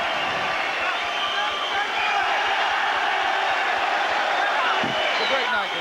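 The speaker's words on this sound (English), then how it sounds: "The crowd thoroughly enjoying his win" A boxing arena crowd roars steadily after Scott Harrison's win over Manuel Medina, a dense, continuous wall of cheering and shouting with no break, close and loud throughout.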